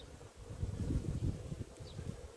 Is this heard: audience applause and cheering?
no